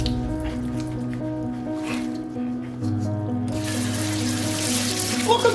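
Cooked pasta water draining from a pot, a steady watery splash and trickle with a low hum under it, growing louder and fuller in the last seconds.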